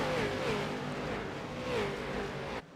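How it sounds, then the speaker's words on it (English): Race cars on a short track in the Scrambler Series sweep past in a steady, loud engine roar with rising revs, ending abruptly near the close. "Saw a couple cars as they flashed by the camera there"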